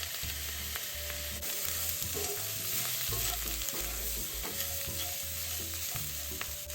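Filling for lotus leaf rice being stir-fried in a wok, a steady sizzle under repeated spatula scrapes and knocks in an uneven rhythm, with a low hum running throughout.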